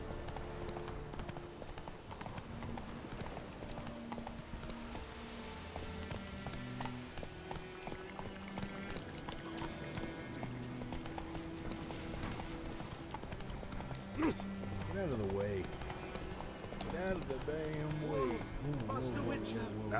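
Roach, the horse in The Witcher 3, gallops with a steady, quick clip-clop of hooves under game music and a speaking voice, the hoofbeats holding a constant rhythm throughout.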